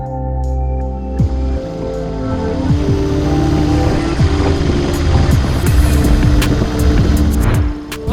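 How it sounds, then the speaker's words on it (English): Motorbike engines rumble loudly, with pitch sweeps as bikes pass by close and then pull away, a steady growling roar throughout. "a lot of the motorbike riders, as you can hear in the background"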